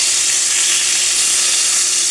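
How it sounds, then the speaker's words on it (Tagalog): Eggplant frying in a pan, lightly salted, giving a steady, loud, close-up sizzle that runs unbroken with no voices over it. "nagpiprito tayong talong"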